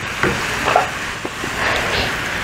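Ground meat for spaghetti sauce sizzling steadily in a pan, a soft continuous hiss with faint crackles and a few brief stirring scrapes, close and fairly quiet with no talk.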